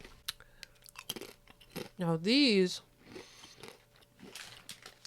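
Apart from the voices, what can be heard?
crunching Puerto Rican plantain chips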